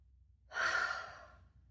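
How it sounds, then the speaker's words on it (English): A single big, deep breath taken close to the microphone, a breathy inhale lasting about a second and then fading, in an otherwise quiet room. "take a big breath."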